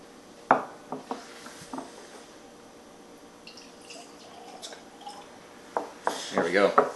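Blanton's Single Barrel bourbon glugs from its weighty bottle into a glass, with bursts of gurgling pour and light glassy clinks near the start and end, fairly close, and soft voices in the background.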